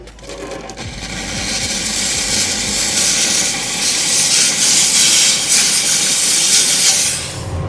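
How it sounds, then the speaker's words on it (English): A steam cleaner blasts a gold ring at a jeweler's bench, a steady loud hiss of pressurized steam that builds within the first second and holds unbroken for several seconds. "we're going to steam it off"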